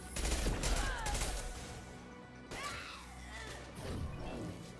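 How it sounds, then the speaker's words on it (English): Gunfire in a space-themed video game, sharp bursts and crashing shots up close with rapid repeated hits, loud at first and then recurring more quietly through the rest. "I can't land a shot with this gun."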